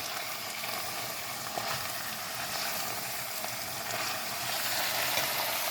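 Garlic frying at the bottom of a chili pot gives a steady, close, broad sizzling hiss that holds evenly throughout with no talk.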